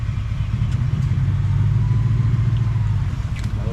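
A 4x4 truck on an off-road trail crawls slowly out of an obstacle, its engine a loud, steady low rumble held at low revs throughout, with faint knocks and creaks over it.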